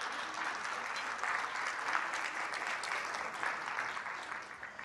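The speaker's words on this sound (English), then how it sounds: "I ask you women to applaud all the men who are in this room" A conference audience claps together in sustained, even applause for the men present. The clapping stays dense and moderately distant throughout, with no voices over it.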